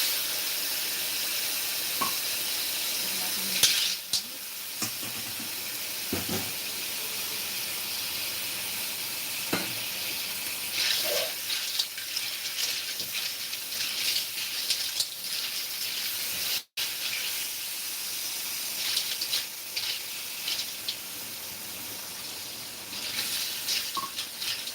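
Water being added to cooking clam soup, with constant sizzling, hissing and steaming from the pot and occasional clinks and pours, moderately loud and close, with no talking.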